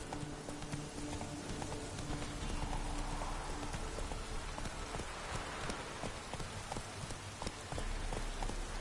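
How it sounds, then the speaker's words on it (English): Horse galloping through rain in the video game The Witcher 3: steady rapid hoofbeats clip-clop throughout over a constant hiss of rainfall, both prominent and continuous. "Run, Roach"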